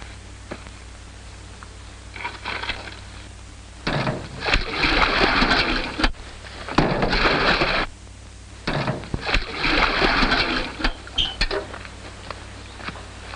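Water sloshes and splashes in bursts as buckets are poured, two at a time, into a water tank, with clanking pails between pours in a room with a low steady hum.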